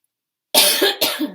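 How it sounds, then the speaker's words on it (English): Someone with a cold gives two quick, sharp coughs close to the microphone after a moment of silence. "I apologize for coughing"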